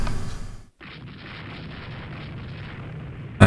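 Torpedo hits sink a warship in the naval strategy game Rule the Waves 2: a heavy rumbling blast cuts off abruptly, then a long low roar of explosion continues, with another loud burst at the end.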